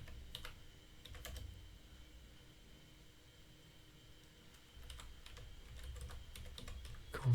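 Typing on a computer keyboard comes in two bursts of quick, light key clicks, near and fairly quiet, with a calmer stretch between them and no voices.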